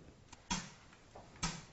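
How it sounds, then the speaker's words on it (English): Short noise bursts from a System 100M modular synthesizer patch, white noise shaped into a simple snare drum hit, two crisp broadband hits about a second apart with faint softer ticks between, fairly quiet and alone. "a very simple drum sound would just be to add some white noise"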